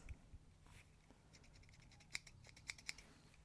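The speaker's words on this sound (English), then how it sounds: "Got some scissors." Scissors on a Bibury BI2045AB multi-tool give a few sharp, crisp snips near the end, close and fairly quiet over a low background hum.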